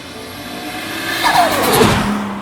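A turbocharged Datsun 240Z running straight E85 fuel at around 16 to 23 pounds of boost, a loud engine swelling as it passes with a rising whine and a deep roar, no voices.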